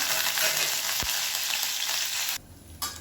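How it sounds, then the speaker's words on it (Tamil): Curry leaves and dried turkey berries fry in hot oil with a loud, dense, continuous sizzle and a single knock of a utensil. The sizzle drops away abruptly near the end, then briefly returns. "கருவேப்பிலை நல்லா வறுபட்டுருச்சு"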